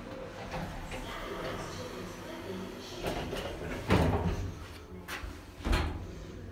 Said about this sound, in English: Doors closing.